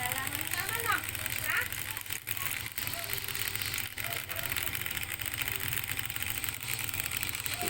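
A homemade DIY free energy generator's motor running, a steady mid-pitched mechanical hum with vibration, fairly faint and continuous, with a few brief clicks.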